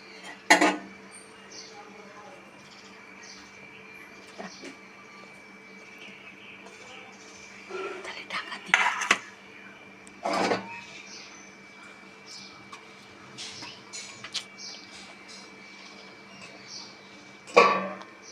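A metal lid set onto a pot of fish curry cooked with mustard and poppy seed, heard as a few scattered clinks and clatters of metal against metal in a quiet kitchen with a low steady hum beneath.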